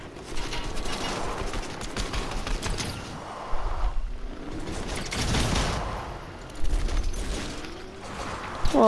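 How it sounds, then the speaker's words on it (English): Gunfire in the video game Fortnite: several broadband bursts of shots at mid-distance, a clustered volley in the middle and another near the end, over a steady game soundscape with mechanical clicking and rattling. "hear shots this way"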